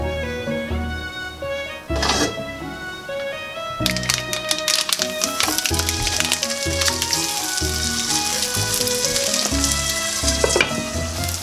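A hamburger patty fries in a pan with a crackling, spattering sizzle that grows denser partway through, mixed with background music and occasional taps.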